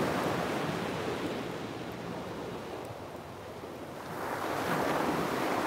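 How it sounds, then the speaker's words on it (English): Ocean surf breaks on a shore in a broad wash of noise, swelling, easing midway, then rising again with a fresh wave, steady and fairly close with some wind. "the waves do sound great this morning"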